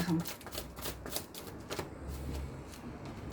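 Tarot cards are shuffled by hand in a quick, close run of riffling flutters, rustling steadily through the whole stretch with no talk over it.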